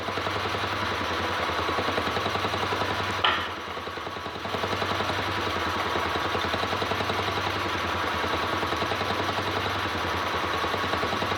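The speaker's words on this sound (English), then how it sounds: "Even right now, it's still running a little heavy on the motor." A 1948 Logan 200 metal lathe de-threading a part keeps a steady motor drone with a rhythmic mechanical chatter, strained and heavy, broken by a short dip in load before the loud, even running resumes. No voices.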